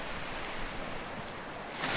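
Waves lapping on the very wide Saint Lawrence River in Québec under misty conditions, a continuous soft wash of surf noise with some wind, moderately faint and steady with no voices.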